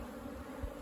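Honeybees buzz softly around a hive box, a faint, steady hum with no pauses, heard at low level and without talk.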